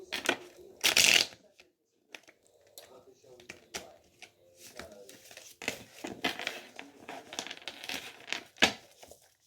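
A deck of playing cards shuffled in an untidy, clumsy way, giving a loud riffling burst followed by scattered soft slaps and crinkly flutters close to the microphone, with talking mixed in.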